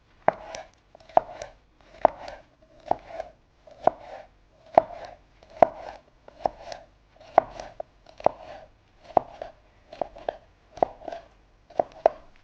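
Fresh green herbs chopped with a knife on a board, a crisp evenly paced run of about fifteen clean thuds, each separated by a short pause.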